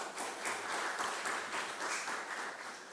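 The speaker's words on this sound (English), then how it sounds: "I think it needs a big round of applause" A quiet, steady patter of audience applause fills an inaugural session hall, sounding distant and continuous with no voices on top.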